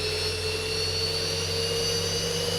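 Steady whine of a Boeing 737 jet engine spooling up during start in the ZIBO MOD flight simulator, a continuous tonal drone with high-pitched harmonics holding level throughout, no talking.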